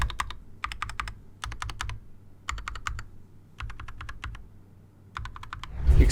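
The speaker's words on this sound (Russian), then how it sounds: "Когда нажимаешь на клавиатуру, создается такое ощущение, что ты печатаешь уверенно." Typing on an Akko mechanical keyboard with RGB backlighting: bursts of crisp, close keystroke clicks in quick rhythmic runs separated by short pauses, with a louder rustle at the end and no voices.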